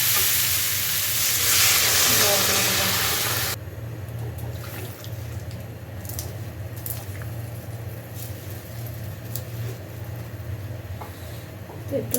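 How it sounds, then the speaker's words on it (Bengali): A curry being sautéed in a pan, opening with a loud, dense sizzle that suddenly drops to a quieter frying murmur with scattered clinks and scrapes of stirring, heard up close. "ওই জন্য একটু ভালোভাবে কষিয়ে নিচ্ছি"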